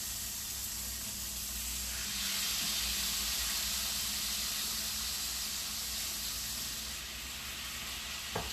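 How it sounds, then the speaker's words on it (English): Butter spooned over lobster tails cooking in a pan, a steady loud sizzle and hiss that keeps on without a break and swells briefly partway through, with no voices. "I'm going to spoon butter in this butter concoction in over top of them"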